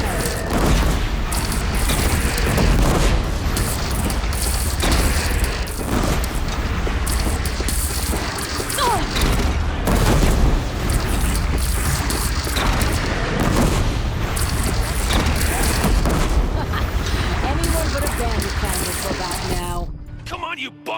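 Gunfire and heavy booms from a mounted gun in Horizon Zero Dawn Remastered, shots repeating in a dense, continuous barrage amid battle noise, with occasional voices.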